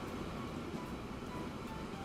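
A train in the video game Archipelago rumbles as a faint, steady low rolling noise for about two seconds, with no talk.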